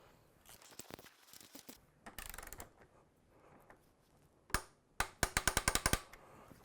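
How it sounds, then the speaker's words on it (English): Torque wrench tightening an exhaust hanger bolt on a BMW R1200GS motorcycle, a series of quiet close ratcheting clicks and taps, ending in a rapid run of sharp clicks. "So we'll torque that to 20 Newton meters."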